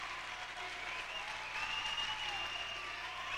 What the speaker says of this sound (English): Minnetonka bench on their feet, applauding their team's defensive effort.